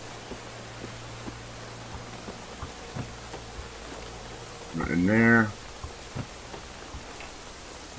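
Steady, faint rain hiss from the video game Generation Zero, an even broadband wash with scattered soft ticks of drops throughout. A low hum runs beneath the first half, and someone briefly speaks midway.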